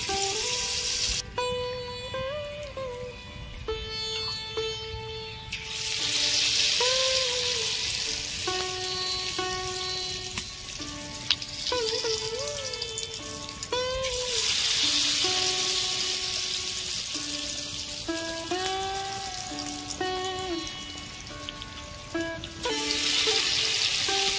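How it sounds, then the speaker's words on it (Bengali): Batter-dipped bread pakoras sizzle in hot oil in a steady frying hiss with brighter bursts, under a tonal musical background. "একটা করে রুটি নিয়ে এই ব্যাটারের মধ্যে ডোবাবো আর গরম তেলে ছেড়ে দেবো"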